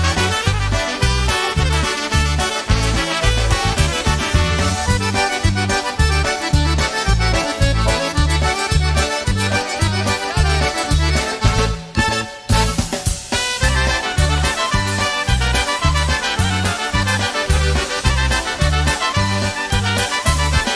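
Lively polka music plays continuously with a bouncing oom-pah bass beat and bright accordion and brass melody, loud and upbeat.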